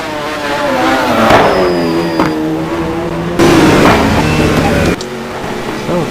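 A Ferrari GT1 race car revs and accelerates hard through its gears at Interlagos in a racing game, loud and close, with a commentator talking over it.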